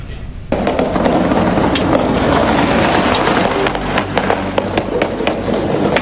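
Rapid bursts of gunfire ring out as police shoot at an unauthorized drone flying near the Presidential Palace in Venezuela. A sudden loud crackle starts and keeps going as a dense, echoing barrage of overlapping sharp pops.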